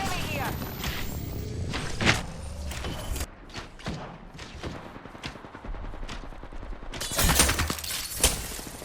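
Bursts of gunfire crack and thud through a battle royale video game fight, with rapid volleys, scattered single shots and a heavy cluster of impacts near the end, all under steady game noise.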